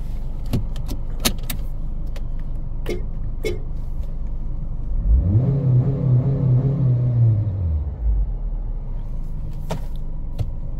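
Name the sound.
2021 Honda HR-V Sport AWD driving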